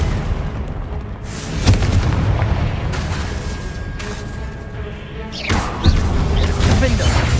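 Confringo spell blasts in the Hogwarts Legacy video game, repeated booming explosions with crashing debris over a dense battle din, a voice calling out spells among them.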